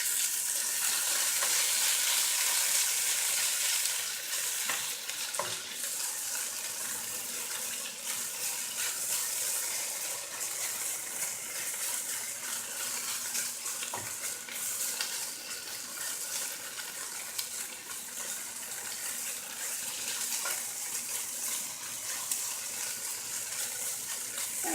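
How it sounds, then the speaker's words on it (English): Steady close sizzling and crackling of tofu frying in a pan, continuous and fairly loud for the whole stretch, with no voices. "when it comes to tofu in the frying pan, the texture is just going to be a bit better"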